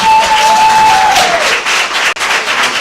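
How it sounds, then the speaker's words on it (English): Applause and clapping from the audience at a county board of commissioners meeting after a school motion is seconded, a dense steady wash of hands with a thin sustained tone early on, continuing for a few seconds with a brief dip near the end. "Don't clap yet."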